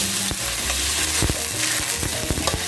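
Sizzling stir-fried braised goose with holy basil in a hot pan as a little water is added, a loud dense hiss with intermittent scrapes and clanks of the spatula, no speech.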